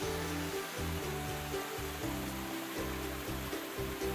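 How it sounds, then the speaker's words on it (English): Steady broadband rushing of a waterfall feeding an ornamental lake in Treasury Gardens, Melbourne, a constant outdoor water roar with faint low rhythmic pulsing underneath and no talk. "There's an ornamental lake here and a waterfall."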